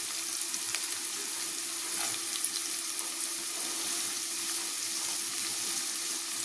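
Carrots, beans, capsicum and potato frying with onions and curry leaves in a pan for poha, a steady close hiss of sizzling oil throughout with faint stirring touches.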